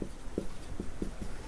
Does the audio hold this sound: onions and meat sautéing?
no